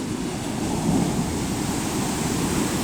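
Ocean waves of roughly 10 to 15 feet crash onto a beach at a steep drop-off, making a continuous broad roar of surf that swells slightly partway through.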